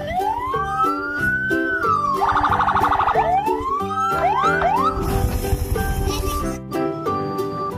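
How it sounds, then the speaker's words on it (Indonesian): A toy ladder fire truck plays its electronic siren, a looping wail that sweeps up and down, then a warbling yelp and a burst of static-like noise, all loud and close over a beeping toy melody. "ini truk pemadam kebakaran tangga"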